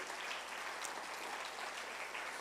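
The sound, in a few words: church congregation applause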